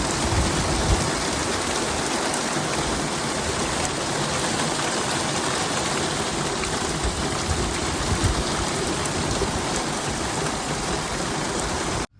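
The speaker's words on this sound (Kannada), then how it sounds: "ಅಷ್ಟೊತ್ತಿಗೆ ಮಳೆ ಸ್ಟಾರ್ಟ್ ಆಗೋಯ್ತು" Steady, heavy rain pours continuously, a dense even hiss close by with no breaks until it cuts off at the end.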